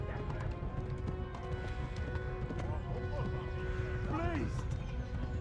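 Horse hooves clip-clop in a steady galloping rhythm in the medieval game Kingdom Come: Deliverance, set under continuous ambient game audio with occasional whinny-like tones.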